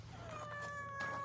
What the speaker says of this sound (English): now you have to fight a full-grown cat